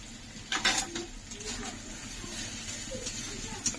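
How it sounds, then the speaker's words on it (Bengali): A spice-grinding bowl is rinsed and water is poured into a cooking pan, with a few quiet metallic clinks and knocks, soft splashes and faint kitchen handling noise. "সে বাটি ধুয়ে একটু জল দিয়ে দিলাম"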